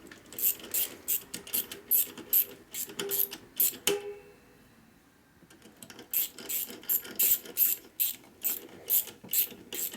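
Rapid mechanical ratcheting clicks from a 1957-66 Harley-Davidson Sportster clutch assembly under tension, in quick uneven bursts, pausing briefly midway before resuming, close and crisp, with no talking.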